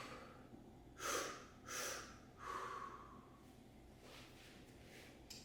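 Slow breathwork exhales, three soft breathy pushes of air close by, each about half a second long and evenly spaced, followed by a quieter, longer breath fading into a hushed room.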